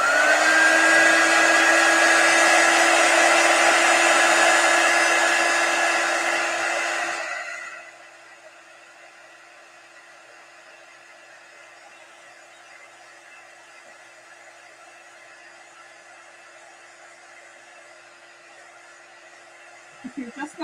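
A hair dryer runs loud and close with a steady whirring blow for several seconds, then winds down to a faint low hum that lingers before a brief knock at the end.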